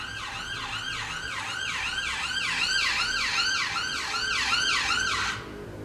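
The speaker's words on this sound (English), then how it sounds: "that is a siren" An emergency siren wails in a rapid rise-and-fall cycle over a low rumble of London traffic, steady and fairly close, before cutting off abruptly.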